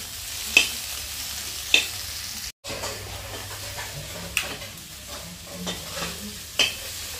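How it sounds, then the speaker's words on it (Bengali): Ash gourd stir-fries in a pan over a clay stove, making a close, steady sizzle broken by a few sharp clacks of the stirring utensil and one brief dropout. "ওইখানে চাল কুমড়া ভাজি হচ্ছে"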